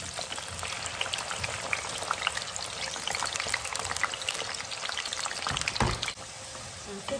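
Sweet potatoes sizzle in hot oil in a home kitchen, a steady dense crackle and bubbling with scattered pops and a brief louder clatter near the end, close and continuous with no talk.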